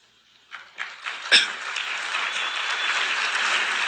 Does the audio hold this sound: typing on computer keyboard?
no